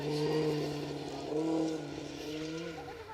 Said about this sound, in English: Great sounding car, that.